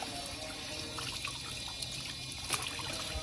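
Water trickling and pouring steadily while fresh radishes are washed outdoors, a continuous close splashing flow with small spatters and no pauses.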